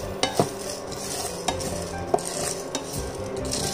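Unpeeled garlic cloves sauté in a pan with a soft continuous sizzle, punctuated by several sharp clacks and scrapes of a spoon stirring.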